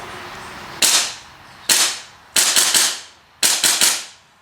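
Airsoft Desert Eagle 50AE blowback pistol firing, with a heavy slide: four sharp, loud cracks, the later shots doubled or tripled in quick bursts, each with a short ringing decay, close up.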